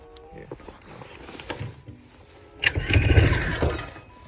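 A 79cc small engine on a Razor dirt bike, run on starting fluid, sputters and catches, rising to a louder rough burst of running about two-thirds through after quieter mechanical noise.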